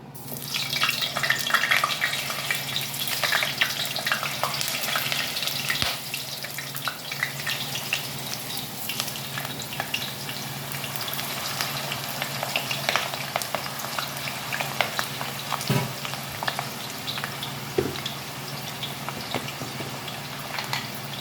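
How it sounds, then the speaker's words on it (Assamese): Three potatoes, cut into large pieces, sizzle in hot, smoking oil in a home kitchen, giving a steady crackling hiss broken by occasional sharper pops, with no talking. "এতিয়া মই তেলত 3টা আলু ডাঙৰকৈ কটা ভাজ খাবলৈ দি দিম"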